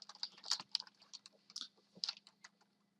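Quick, light computer keyboard typing in short irregular bursts, close and fairly quiet, with no voices.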